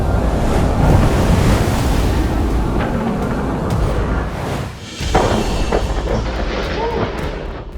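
Ocean waves crash and rumble steadily along a Hawaii shoreline, a broad continuous surf roar mixed with wind buffeting the microphone.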